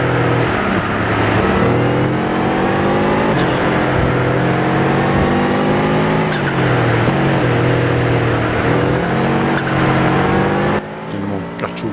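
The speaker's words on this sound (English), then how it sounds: "there's definitely a better engine note that they've got there, more detail in terms of the gear changes" Race car in GT Sport revs hard and shifts gears repeatedly, its engine note climbing and dropping with clear gear-change breaks, loud and close, with a voice briefly over it near the end.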